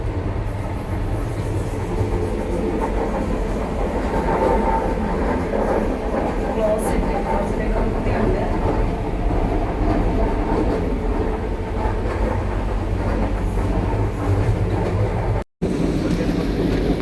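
A Vande Bharat express train runs along the rails, its steady low rumble and wagon rattle continuing evenly and loudly throughout, with a brief dropout near the end.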